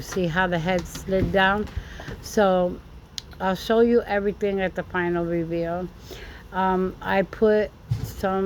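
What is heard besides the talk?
No distinct noise like a dog, phone or traffic.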